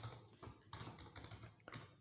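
Quiet, irregular taps of a computer keyboard being typed on, a few soft clicks spread across a brief moment with faint room noise.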